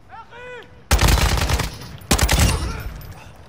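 Two loud, booming gunshots in a war video game, a headshot kill, each with a long rumbling decay, preceded by a short bright warbling tone.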